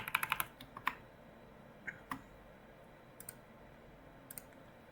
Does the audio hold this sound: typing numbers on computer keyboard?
yes